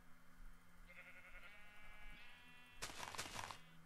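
Sheep bleat in a modded Minecraft world: a faint, wavering bleat early on, then a louder, harsher bleat near the end over quiet background hum.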